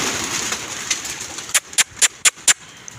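Pigeons coo softly over a steady outdoor hum, followed by five sharp, evenly spaced clicks or taps near the end.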